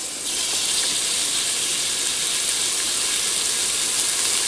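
Beef cubes sear in a hot pressure cooker, a steady broad sizzle and hiss that starts abruptly and holds even and fairly loud throughout.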